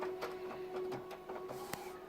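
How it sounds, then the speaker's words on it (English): An Epson WF-7610 inkjet printer's carriage shuttles back and forth, giving a faint, close mechanical whirring with soft clicks and a steady motor whine, a sharper tick near the end. "it makes a little bit of noise as the carriage runs back and forth"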